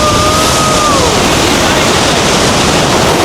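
Loud continuous roar of the Rhine Falls, a massive Swiss waterfall, up close, with a brief faint voice-like tone briefly riding over the wash of rushing water.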